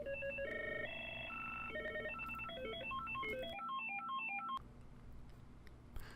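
Mitel 6869i desk phone cycling through ringtone previews: bright electronic melodic trills and arpeggiated beeps in quick succession, clear and close, each pattern cutting off as the next begins, then falling quiet with a few key clicks.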